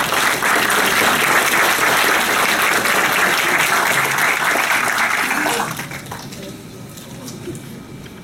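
At a lecture on renewable energy, an audience applauds to welcome the speaker: dense, loud clapping that holds steady for several seconds, then thins and fades to a quieter room.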